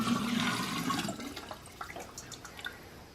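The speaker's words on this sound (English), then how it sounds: "mixture and pour it in my" Homemade hard cider mixture is poured into a jar, starting with a rushing, gurgling stream that tapers into scattered drips and small splashes, fairly quiet and close.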